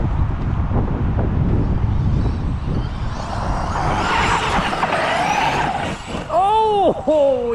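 A Traxxas Super XRT RC truck races past outdoors, its electric motor whine rising and sweeping as it closes in and speeds away, over gusty wind noise and rough ground rumble.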